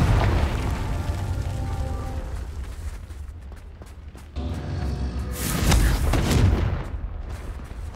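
Booming fire-spell blasts from the Confringo curse in Hogwarts Legacy, a continuous rumbling roar that dips briefly and then swells again with a loud second burst, dense and close.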